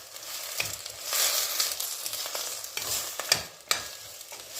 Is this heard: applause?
no